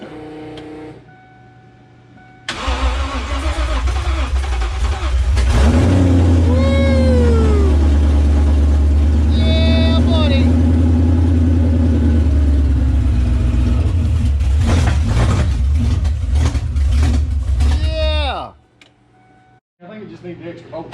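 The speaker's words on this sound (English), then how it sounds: "So the Super Snake engine is alive" A Super Snake engine in a custom build cranks and lights off, then runs loud with a steady heavy rumble for about sixteen seconds before shutting off; voices can be heard over it.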